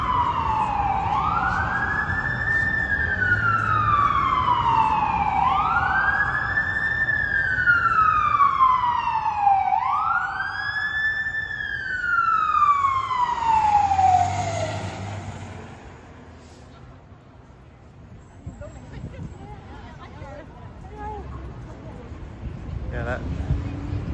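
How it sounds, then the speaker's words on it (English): A fire truck siren wails in three long rising-and-falling sweeps over Toronto road traffic, then cuts off and leaves a low engine rumble. "fire truck had its lights on and sirens ringing to go into the fire station"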